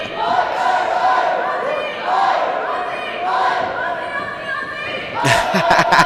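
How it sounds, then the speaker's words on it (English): Team Australia supporters chant and cheer loudly in the crowd at a World Boxing Cup boxing finals event, a sustained rhythmic wall of voices with a few sharper thumps near the end. "That is Team Australia in the crowd, making all that noise as they're cheering on their fellow teammate"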